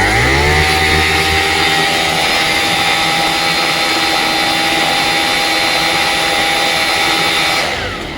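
A 78cc two-stroke light aircraft engine (ATOM 80 / TOP 80 type) screams at full throttle near 9,700 RPM, a loud, steady, high-pitched buzzing drone held close for several seconds before easing off at the end.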